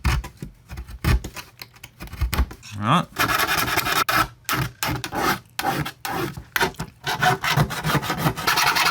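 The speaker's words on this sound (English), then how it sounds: "Need to use a file with a bit more." A metal file rasps along the edge of a PC case in a run of short, uneven strokes with brief pauses between them, close and fairly loud.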